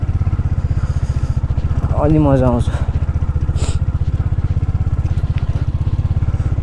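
A motorcycle engine thuds in a fast, steady pulse while riding a rough road, loud and close throughout, with a rider's brief voice breaking in near the start.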